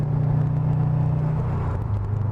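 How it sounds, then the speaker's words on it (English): A Subaru WRX STI's exhaust rumbles low and steady from inside the cabin while driving, a continuous deep drone with engine whir, no talking. "You can hear that exhaust in the background freaking rumbling."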